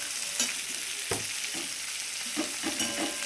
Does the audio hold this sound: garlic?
yes